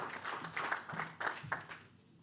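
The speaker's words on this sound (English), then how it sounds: "A big round of applause," An audience at a lecture in a hall gives a short round of applause, steady clapping at moderate volume that fades away near the end.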